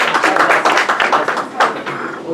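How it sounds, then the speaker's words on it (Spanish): Applause from a crowd, dense rapid clapping sustained throughout, fairly loud and close, with a few sharper claps standing out. "un fuerte aplauso para Fer, por favor"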